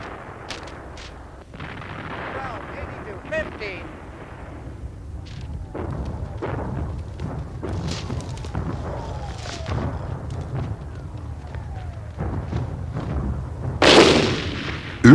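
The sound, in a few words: World War I artillery fire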